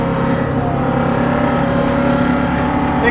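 A Ford Mustang on new, oversized tires accelerates hard during a 60 mph roll test, with a loud sustained engine roar and no pauses.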